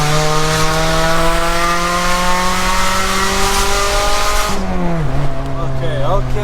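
Engine of a 2.2 VTi Honda Prelude, parked for five years and with a faulty caliper, droning loudly and steadily at speed on a highway, its pitch rising and then dropping sharply as the driver shifts gear.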